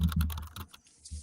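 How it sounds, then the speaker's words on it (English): A few quick clacks of keys being struck hard on a computer keyboard, close and brief, with a short pause before a final keystroke. "When he pounds the keyboard, we could hear him"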